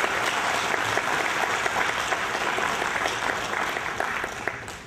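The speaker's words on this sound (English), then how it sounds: "Give a round of applause." Steady audience applause at a ceremony for an aviation scholarship, a dense wash of clapping from a crowd that holds for several seconds and tapers slightly at the end.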